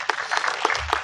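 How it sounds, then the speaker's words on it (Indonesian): A press conference audience claps together in a short burst of fairly close applause, brief and steady. "Silakan tepuk tangan teman-teman."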